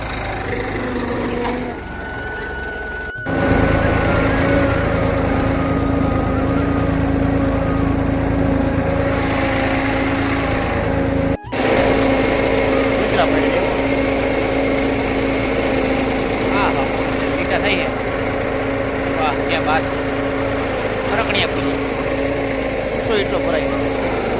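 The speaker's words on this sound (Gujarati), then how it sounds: "ટ્રેક્ટર હાંકી નાખીએ છીએ આપણે" A tractor engine drones steadily and loudly close by, a constant low hum with a brief cut partway through and no pauses.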